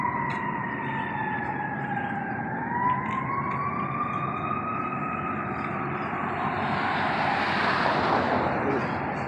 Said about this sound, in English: Those sirens were way behind me, even though they sounded kind of loud